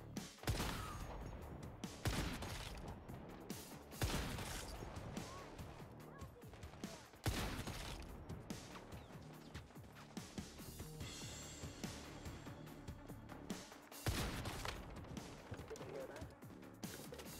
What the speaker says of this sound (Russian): Еще все гранатами по мне стреляют